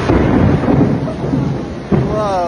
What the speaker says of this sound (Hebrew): שם תפס אותנו מבול מטורף וסופת ברקים